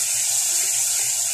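Water added to a pan of cooking onions gives a short, steady, loud hiss and gush of sizzling steam with no voices.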